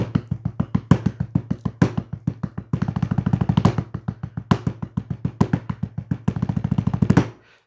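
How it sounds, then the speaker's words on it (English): Rapid paradiddle-diddles and triple paradiddles on a practice pad, dense flurries of crisp taps in repeating groups with periodic accents, played alone and close. "paradiddle diddle, followed by a triple paradiddle"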